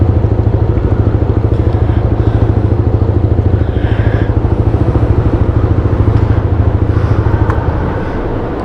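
Yamaha Aerox V2 scooter engine idling close by: a loud, rapid, even putter continues for several seconds, then it switches off and leaves faint background noise.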